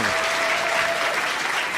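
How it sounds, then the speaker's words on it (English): A studio audience gives a steady round of applause welcoming a guest onto a talk show, dense and even clapping that stays loud from start to finish. "Please welcome, big round of applause for Dr. Michael Roizen."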